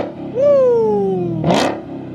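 A Dodge Hellcat or Trackhawk engine is revved at a street takeover in Alabama: a sharp blip up that slowly falls away, followed by a short harsh burst of noise, loud and nearby.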